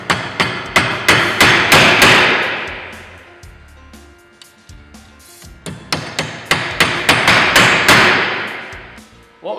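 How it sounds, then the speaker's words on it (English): A hammer driving a nail to fix a dry verge starter bracket to a roof batten, two runs of sharp, loud, closely spaced blows with a short pause between them, and no talking. "What I'm going to do on this one is nail it into place."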